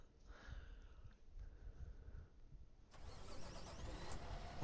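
A flatbed truck's engine cranks and catches in Construction Simulator 2, a mid-pitched motor that turns over partway through and then settles into a steady, louder running rumble, with no talking.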